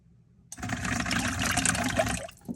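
A glaze fountain sprays glaze onto a ceramic mug in one steady, close hissing burst of about two seconds that starts abruptly and stops, then a brief soft knock.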